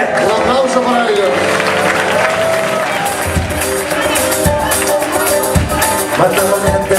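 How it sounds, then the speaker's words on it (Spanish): Crowd at a band's 15th anniversary concert applauding and cheering loudly and continuously, a dense wash of clapping and voices layered over the band's music. "Un aplauso para ellos."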